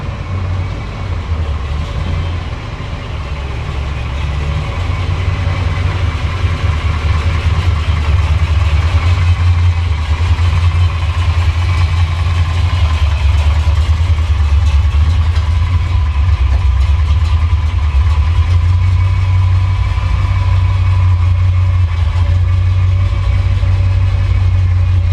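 1984 Chevrolet K30 truck engine running steadily as it moves into a shop, a loud, continuous low rumble that holds nearly unchanged for the whole stretch, close by with no talking.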